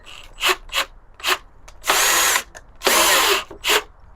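A power drill fires in short bursts, several quick blips and two longer whirring runs, close up as a Robertson screw bit drives a screw into wood.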